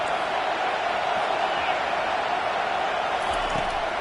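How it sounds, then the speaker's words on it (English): Steady roar of a stadium crowd at a football game, continuous and fairly distant, with cheering swelling slightly throughout and no clear talk on top. "This crowd knows when to bring it."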